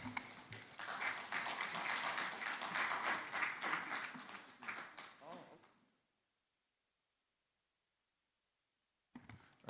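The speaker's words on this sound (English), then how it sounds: "Let's give her a more round of applause, please." Conference attendees applaud after a speaker finishes, a thick wash of many hands clapping for about five seconds that tapers off into near silence, with a faint knock near the end.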